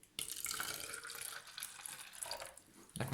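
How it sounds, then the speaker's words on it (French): Water pours steadily into the reservoir of a homemade drink machine, a continuous splashing stream that runs for about three seconds and then trails off. "là on va verser l'eau"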